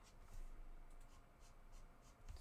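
Marker strokes scratching on textured watercolour paper, quiet close-up rubbing in short repeated bursts with no talk.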